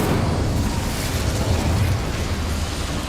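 Incendio fire spell cast in the Hogwarts Legacy video game: a loud, sustained roaring blast of flame that fills the whole moment with dense rumbling noise and no speech.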